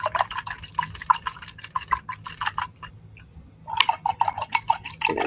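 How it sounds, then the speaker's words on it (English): A paint brush is swished and rinsed in a water cup after acrylic painting, giving rapid splashing, clinking taps against the container in quick bursts, with a short pause midway before the rinsing resumes, close and fairly loud. "And I'm going to wash my brush."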